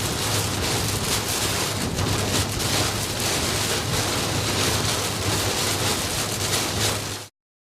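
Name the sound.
heavy rain during thunderstorm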